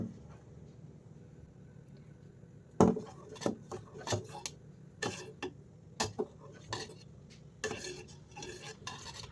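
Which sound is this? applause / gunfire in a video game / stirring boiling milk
stirring boiling milk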